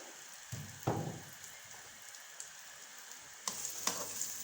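Onions frying in 3 to 4 tablespoons of cooking oil in a kadhai, a soft, faint crackling sizzle with a few louder pops and scrapes.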